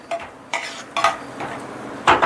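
Peanuts roasting in hot oil in a pan while being stirred for stuffed okra curry, heard as a few loud scraping, rattling strokes of a utensil against metal over a faint sizzle.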